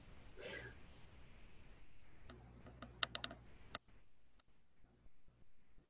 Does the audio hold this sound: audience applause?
no